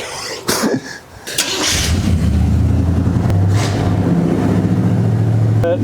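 Engine of a 1972 Chevy El Camino, an abandoned garage find, turning over after a couple of sputtering bursts and then running steadily and loudly close by, with no speech.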